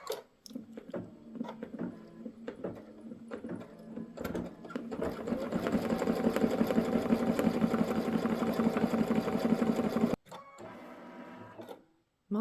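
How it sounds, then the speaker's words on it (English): A Brother Luminaire embroidery sewing machine stitches an appliqué tack-down line on a quilt block. Its motor whirs with a rapid, steady needle rhythm that builds and runs loudly for several seconds, then stops abruptly, followed by quieter mechanical clicks. "I'm going to go ahead and stitch the tack down stitch."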